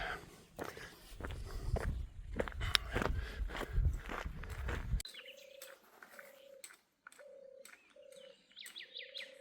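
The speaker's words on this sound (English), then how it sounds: "I'm not sure what that bird is. Sort of a prrr, prrr, prrr." A bird repeats a short, even call several times at a regular pace in coniferous forest with grapevines, following a stretch of rustling and scuffing steps nearby.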